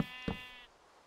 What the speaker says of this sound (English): Sheep are really annoying.